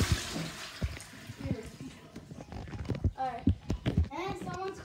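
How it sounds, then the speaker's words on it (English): A hotel bathroom toilet flushes with a loud rushing hiss that fades after about a second, followed by splashing water and clatter as people talk nearby. "Let's see how we flush."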